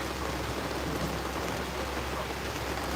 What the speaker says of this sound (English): it started to pour rain